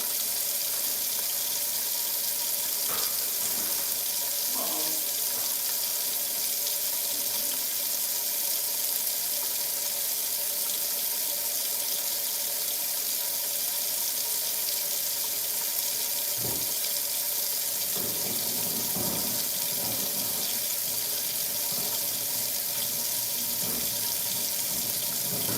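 Tap water runs steadily into a kitchen sink during dishwashing, a continuous close rushing hiss with a few soft knocks and clinks, and no voices.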